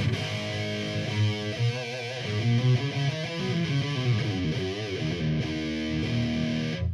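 A heavily boosted electric guitar plays through a Crate Blue Voodoo 120H amp with a Sonic Stomp and EQ pedal, giving a saturated, driven tone. Sustained notes and chords ring out one after another, close and alone with no talking.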